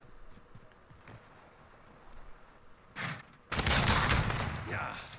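JAK-12 automatic shotgun in Call of Duty: Modern Warfare fires a rapid burst of heavy blasts, loud and close, after quieter scattered footsteps and a single earlier shot.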